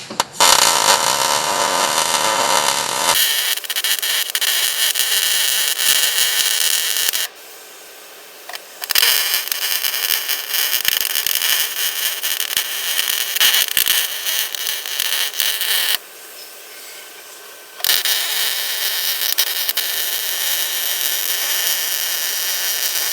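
Welding on the frame of a 2000 Chevy Silverado during a repair, loud continuous crackling buzz in long runs broken by two brief pauses, close up with no talk.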